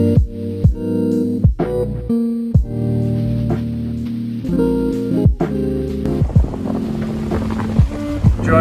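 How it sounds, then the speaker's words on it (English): A Sirius 40 DS sailboat sailing in a strong breeze: a continuous rush of wind and water around the hull, punctuated by recurring sharp knocks and creaks, with no voices. "Enjoying some windy sailing on the Sirius 40 DS."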